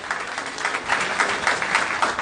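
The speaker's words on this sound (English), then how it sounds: "A new hand of applause." Audience applause at a political party installation ceremony, a steady dense wash of many hands clapping at moderate volume throughout, with no voices standing out.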